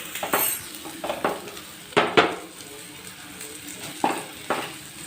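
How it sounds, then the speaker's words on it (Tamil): Brinjal and spices sauté in a pan, with a faint sizzle beneath repeated sharp scrapes and clinks of a spoon stirring against the metal at an irregular pace. "இப்போ எல்லாம் போட்டு வதக்குறோம்"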